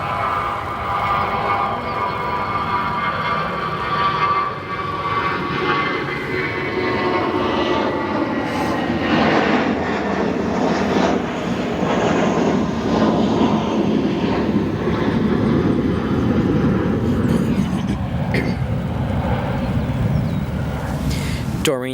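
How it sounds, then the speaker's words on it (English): An American Airlines Boeing 737 arriving at Chicago O'Hare from Punta Cana gives off a steady, loud broadband jet roar throughout, with a voice talking faintly over the engine noise. "Our next arrival, American Airlines Boeing 737 from Punta Cana."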